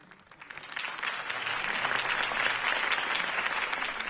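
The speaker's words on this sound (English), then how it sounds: "If only Mr. Wayne, my campaign's largest backer, could have heard that applause" A large crowd applauds a campaign speech by Harvey Dent, sustained broad clapping that swells after a quieter start and holds steady, moderately distant.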